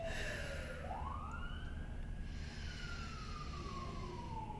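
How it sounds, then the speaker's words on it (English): An emergency siren wails at a distance outside a quiet meditation session, its pitch sweeping slowly up and down at a faint level over a low background hum, with no voices. "Cue siren."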